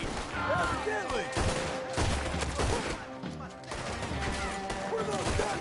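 Gunfire in Red Dead Redemption 2, scattered shots and volleys cracking over a busy game soundscape with voices talking throughout.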